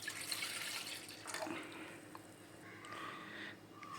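Milk being poured into a pan for making tea, a soft continuous liquid stream heard close and quiet for several seconds, with no talk.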